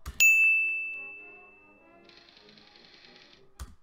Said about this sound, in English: When did his teeth decide to become a typewriter?